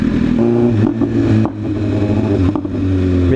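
A motorcycle exhaust revs loudly close by, with several throttle blips rising and falling in pitch over a rumbling idle, and no talk in between.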